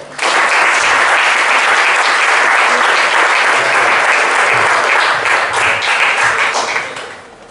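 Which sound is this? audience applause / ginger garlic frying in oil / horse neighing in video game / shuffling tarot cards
audience applause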